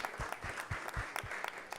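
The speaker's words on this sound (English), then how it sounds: "So let's give her a big round of applause." Audience applause at a Govardhana Puja celebration class following a kirtan, a small group clapping in a loose, uneven rhythm, moderately near and fairly quiet, no talk over it.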